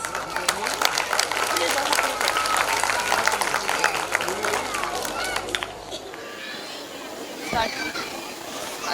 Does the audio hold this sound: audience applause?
yes